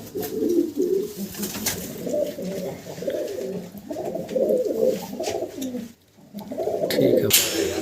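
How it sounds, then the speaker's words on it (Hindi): A pair of racing pigeons coo steadily and close by in a series of soft, throaty, rolling calls, with a brief pause before the cooing resumes. "जोड़े में कबूतर है ये भाई"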